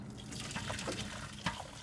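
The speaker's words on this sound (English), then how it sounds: "There's my strainer" Pasta cooking water from angel hair pasta pours through a strainer into a big bowl set in a sink, a steady close splashing stream with a brief louder gush near the end.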